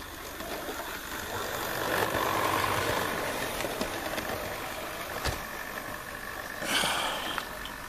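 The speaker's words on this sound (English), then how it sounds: "She's a bit noisy, yeah, but that's because we gotta let the gears bed in." A Bachmann Class 66 model locomotive in Colas Rail Freight livery runs with a steady, rough motor and gear whine, its new gears still bedding in. The noise stays moderate throughout, with a brief louder surge near the end.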